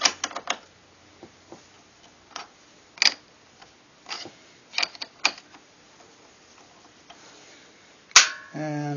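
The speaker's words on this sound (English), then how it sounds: "you're going to need a flare wrench, 10mm. Put it on the bolt there. Break that loose." A 10mm flare wrench works loose a bolt under the hood of a 2009 Hyundai Accent during a belt replacement, giving sharp scattered metallic clicks and taps, then a louder clatter near the end.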